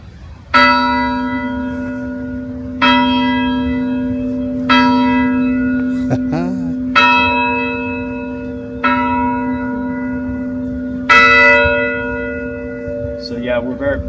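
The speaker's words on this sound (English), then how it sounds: "it's a electrical clapper. So it actually does ring the bell" A church bell struck by an electrical clapper rings out loud and close, about seven strong strokes at even spacing, each ringing on with a long humming decay before the next.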